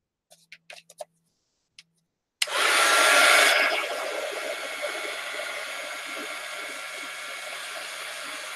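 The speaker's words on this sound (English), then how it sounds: "Okay, we're going to heat gun it again." A heat gun blows hot air over acrylic paint on a collage journal cover, starting abruptly after a few soft taps, roaring loud and steady up close, then easing to a constant lower whoosh.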